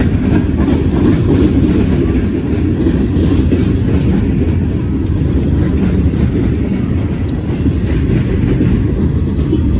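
A CSX train rumbles past close by, heavy and continuous, with a low steady roar and faint rhythmic clatter throughout.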